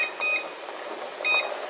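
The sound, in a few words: kitchen timer being set, beeping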